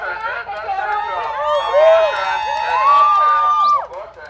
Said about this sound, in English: Give me a big cheer for the organizers